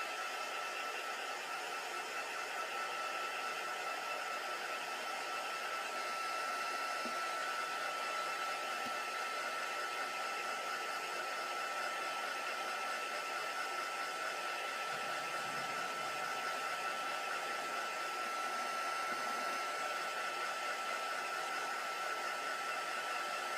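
A handheld heat gun runs steadily for the whole stretch, drying a craft puzzle-piece project with a constant close, loud airy whir and no talk over it.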